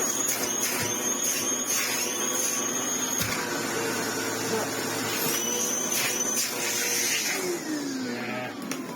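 Sebo X4 upright vacuum cleaner running steadily with a slight air leak at the seal under the hose, a continuous broadband whine with a faint hiss, close and loud throughout.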